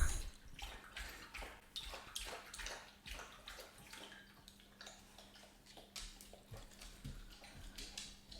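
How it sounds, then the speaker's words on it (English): A dog laps water from a bowl in a quiet room, producing a steady series of soft, close, rhythmic wet licks and splashes over a faint background hum. "You hear my dog drinking water."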